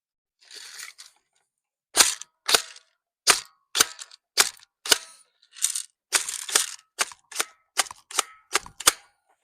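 A cheap airsoft gun fires about a dozen sharp snapping shots close up, spaced irregularly about half a second apart after a brief soft rustle, with no talk.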